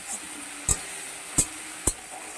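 Ginger garlic paste frying with tomatoes and onions in a pan, a soft steady sizzle under three distinct spoon stirs or scrapes spaced evenly, quiet and close with no talk.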